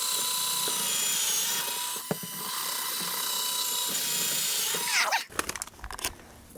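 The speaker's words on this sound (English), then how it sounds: "Just drill a couple of holes." Power drill boring holes into a wood block that supports a large model railway helix, a steady high whine lasting about five seconds, then the motor stops and a few clattering knocks follow.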